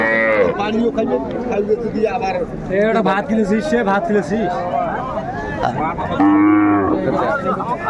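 Cows and calves at Ambari cattle market in Dinajpur moo loudly and repeatedly, the long drawn-out calls close by and overlapping with busy human chatter.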